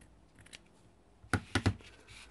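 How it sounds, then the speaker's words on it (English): Scissors snipping craft tag material, three quick close cuts in a row after a faint earlier rustle, in an otherwise quiet room. "I'm going to just trim this off."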